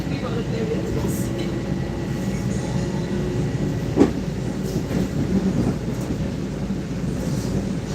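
A slow-moving train rolls along with a steady low rumble and wheel noise throughout, one brief clank near the middle, heard from on board with no clear talking.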